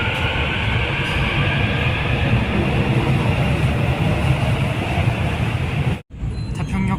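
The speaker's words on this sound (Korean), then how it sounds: "3515 3편성 열차, 오늘 마지막으로 저 데려다줘서 고마워요." Suin-Bundang Line subway train set 3515 rumbling steadily at close range, a loud continuous roar of wheels and motors that briefly drops out near the end before resuming.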